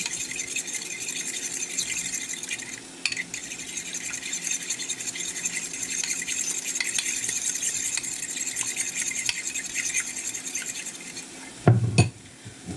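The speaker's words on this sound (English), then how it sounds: "Break up the yolk, stir up the eggs." A fork clinks and scrapes rapidly against a bowl, whisking eggs in steady strokes, close and fairly quiet, ending with a brief thump.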